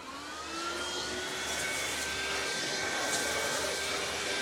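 Lindhaus Valzer lithium-ion cordless vacuum with a compatible Miele upholstery tool attached, running as a steady high-pitched whine with a faint rising tone, loud and continuous with no talking.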